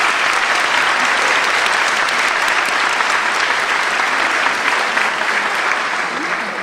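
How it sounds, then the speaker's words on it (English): A graduation audience at Southland College Prep gives Senator Durbin a round of applause, loud sustained clapping filling the hall from start to finish. "A round of applause for him."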